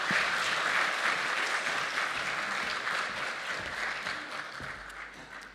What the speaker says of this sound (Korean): 앞에 나와서 귀한 말씀 전해 주실 때 격려의 박수로 환영해 주시면 감사하겠습니다.